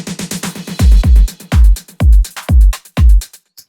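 Melodic techno build-up with heavy kick drums and a high-cut filter sweeping upward, the sound opening from muffled to bright as the beat pounds in a steady rhythm, loud and alone before cutting out near the end.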